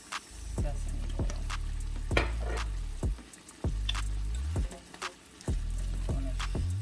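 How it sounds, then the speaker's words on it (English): Teriyaki beef noodle stir fry being stirred in a hot pan, with a soft steady sizzle and a series of wet, squishy thuds and scrapes every half second or so. The sounds are close and moderately quiet. "I'm going to stir that up"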